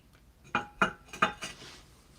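A gilded footed glass dish handled during unpacking gives three or four sharp, close clinks of glass knocking against other dishes, followed by a softer rattle.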